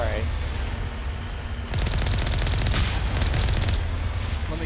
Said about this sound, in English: we got snipers already shooting at us